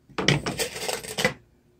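Screws being set into a welding table with an aluminum top: a close cluster of sharp metallic clicks and clinks with short rattling taps, brief and fairly loud, no talking.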